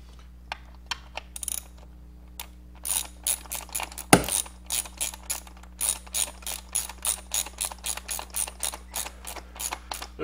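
Ratchet wrench with a wobble extension clicking on LS6 valve cover bolts near the firewall, a long series of quick, close ratcheting bursts in uneven rhythm with a sharp metallic knock partway through.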